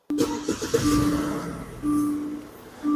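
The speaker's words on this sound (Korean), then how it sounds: "부드럽게 걸리고 있는 시동 소리 들실 수가 있습니다" Genesis G90 3.8 luxury sedan cranked and fired up, a brief starter whir catching into a smooth steady idle with a slight rise in revs, close by and free of talk.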